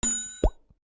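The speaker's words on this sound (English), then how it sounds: "Hit the notification bell and smash that like button." A single bright notification ding rings out once, soft and short, followed by a brief low plop, with no voices around it.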